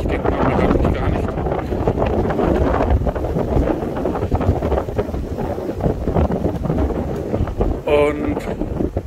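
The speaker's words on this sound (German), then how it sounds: "Ich rede jetzt extra mal lauter, weil der Wind hier ist schon extrem." Strong wind buffets the microphone throughout, a loud broadband roar with gusts during a walk or ride through vineyard country in the Schneckental near Batzenberg, while someone talks over it.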